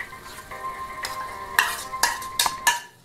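Mashed roasted eggplant being stirred into a cooked-down tomato masala in a pan for Punjabi baingan bharta, several close scraping stirs under a light sizzle.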